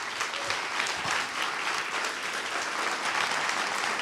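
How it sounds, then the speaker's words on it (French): Audience applauding at a tenth-anniversary celebration of a social-inclusion organisation, a steady, moderately distant wash of clapping that continues evenly with no voices. "je pense qu'on peut les applaudir"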